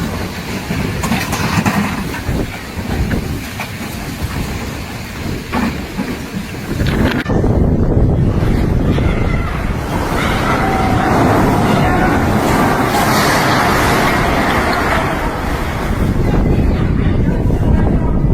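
Strong, gusting wind during a severe windstorm sweeping through a Chinese city, roaring steadily and loudly with buffeting bursts, mixed with passing road traffic as vehicles struggle against it, with no talking.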